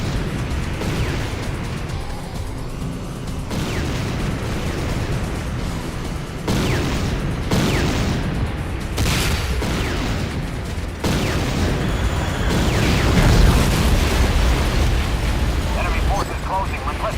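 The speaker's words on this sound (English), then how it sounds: "Airstrike en route." Airstrike explosions in the video game Command & Conquer: Renegade: a run of loud, heavy booms and bursts that start and stop abruptly, layered over dense game noise.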